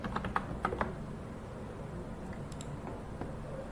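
Quiet typing on a computer keyboard, a quick burst of key clicks at the start followed by sparse, scattered taps under a low room hum.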